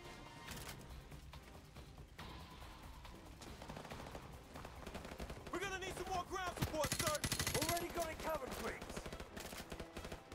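Video game gunfire from Call of Duty: Modern Warfare crackles in rapid bursts and single shots over a dense, noisy battle mix, with a few pitched whining effects partway through.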